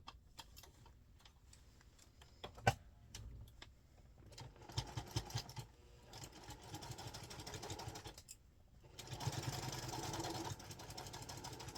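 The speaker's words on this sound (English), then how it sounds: "Now I just need to stitch up my turning hole." Sewing machine stitching closed the turning hole in a pocketbook's lining, a steady mechanical whir with ticking, broken by short pauses and one sharp click, close and moderately quiet.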